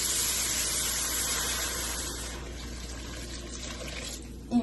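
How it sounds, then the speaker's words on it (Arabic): Water runs from a tap into a cooking pot for mushroom soup, a steady close hissing splash that gradually softens as the pot fills, ending with a brief clink. "المهم غادي ندير الماء"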